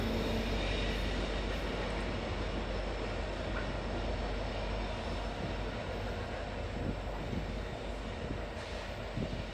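Conrail freight train with rear-end DPU helpers rolling past at Gallitzin, Pennsylvania, a continuous loud broadband roar of wheels and engines that stays steady throughout with no voices.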